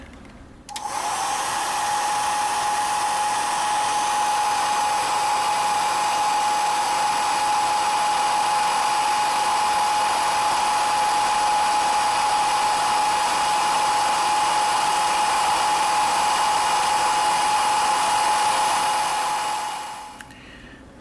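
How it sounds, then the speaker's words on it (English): A hair dryer whirs continuously at a steady pitch for about twenty seconds, close and loud, while working on a model ship, then switches off. "Let's get the hair dryer going here."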